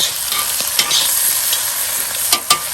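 Vegetables stir-fried in extra virgin olive oil in a Lodge wok over a Weber charcoal grill: a loud, continuous sizzle with a few sharper scraping clacks from stirring, no talk.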